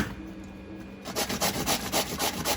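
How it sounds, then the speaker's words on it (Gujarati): Peeled bottle gourd is rubbed over a hand grater for handvo batter, giving a steady rhythmic scraping of quick strokes that starts after a brief quiet moment and carries on close and clear. "હવે આપણે આને આ રીતે છીણી નાખવાની છે."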